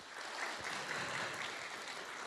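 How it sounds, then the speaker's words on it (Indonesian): Audience applause from a seated crowd at a religious talk, a steady, even wash of clapping held at a fairly low level throughout. "kita berikan tepuk tangan sekali lagi"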